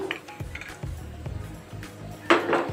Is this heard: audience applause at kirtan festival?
no